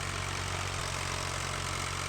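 An old tractor engine from the video game Farming Simulator 15 runs at a steady, low, rumbling idle, close and continuous with no talk.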